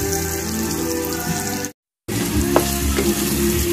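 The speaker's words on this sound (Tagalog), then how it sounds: "Luluto na ako ngayon ng sauce ng spaghetti." Spaghetti sauce frying in a pan at home, a steady loud sizzle and crackle that cuts out briefly and then resumes, with faint stirring clicks.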